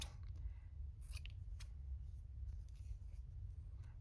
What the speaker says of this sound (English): Cutting off the seam.